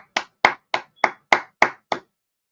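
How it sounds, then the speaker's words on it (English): Seven sharp, evenly spaced hand claps ring out close and dry, like a single person applauding alone, then silence. "Big shout out. Round of applause."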